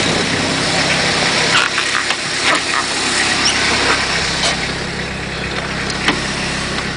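A van engine idling steadily, a vehicle rigged for a water-powered fuel experiment; a constant mid-pitched rumble runs close and unbroken, with a few faint clicks and knocks on top and no talking.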